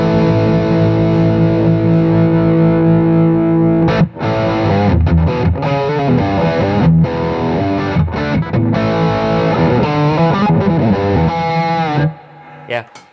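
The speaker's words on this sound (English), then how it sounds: "And if I switch to the distortion" Heavily distorted electric guitar playing sustained chords and riffs, loud and close, with a brief pause early on and a drop near the end.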